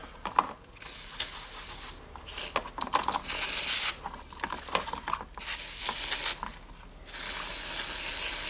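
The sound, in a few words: electric contact cleaner spraying on Milwaukee drill parts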